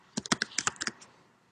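A quick burst of about a dozen crisp key clicks on a computer keyboard, close and clear, tapering off into silence after a second.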